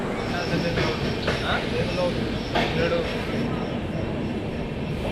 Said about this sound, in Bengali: আমাদের ট্রেন হাওড়া অমৃতসর মেল এখন এসে পৌঁছেছে আসানসোল জাংশনে